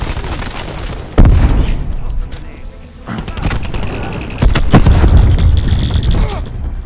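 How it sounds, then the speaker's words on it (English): Lightning-strike airstrike explosions in Call of Duty Black Ops 4 multiplayer, with heavy booming blasts at about one and four and a half seconds amid rumbling gunfire and battle noise, loud and close. "Enemy lightning strike inbound."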